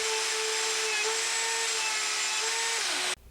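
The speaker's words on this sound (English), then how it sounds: "I'm going to go to the router table and use this roundover" A router table cutting a roundover profile along the front edges of wooden legs for a hexagon planter box made from treated wood: a loud, steady high-pitched whine that holds for about three seconds, then cuts off abruptly.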